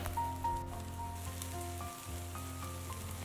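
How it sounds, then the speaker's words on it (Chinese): Orange glutinous rice cakes pan-frying in a little oil on low heat, a soft continuous sizzle and crackle at low volume, with faint tonal hum underneath. "小火煎制，直到把橙子饼两面都煎到金黄"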